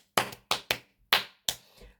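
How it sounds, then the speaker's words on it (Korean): Hand clapping: five crisp, close claps at an uneven pace, with short silent gaps between them. "너무 박수 좀 치고 갈게요."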